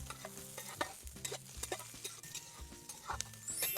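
Onion and garlic frying in oil in a pan, with steady sizzling under repeated stirring scrapes and soft knocks of a utensil, close and fairly quiet.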